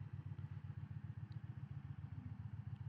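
Engine of a 2025 Indian Chieftain PowerPlus 112 motorcycle running with its cylinder shut-off mode engaged, a steady low rhythmic pulsing throb at a quiet, even level with no talk.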